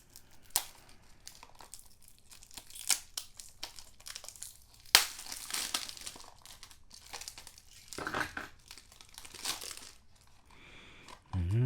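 Plastic wrapping on a cassette tape is torn and crinkled open at an unboxing, close crackling and rustling in irregular bursts with brief quiet gaps between them.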